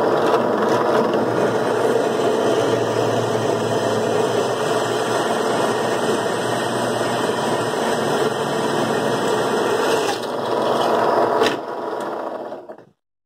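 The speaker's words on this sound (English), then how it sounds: "Drill your next hole." A drill bores steadily through metal while a 3 point hitch is being made for a Z525E zero turn mower, giving a continuous grinding whir that holds for about ten seconds before spinning down and stopping.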